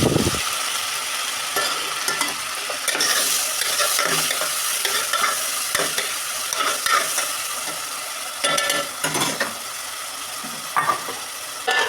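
Chopped tomatoes fry and sizzle in a pan for fish curry while a spoon stirs them, giving a continuous close hiss broken by repeated scraping stirs, with no talking.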